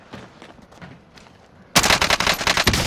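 Rapid automatic gunfire in the video game Warzone bursts in loud and dense after a quieter stretch of faint game noise, sustained shots crackling close by.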